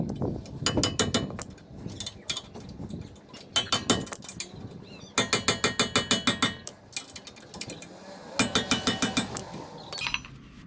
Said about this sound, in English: I'm going to tighten up the caliper bolts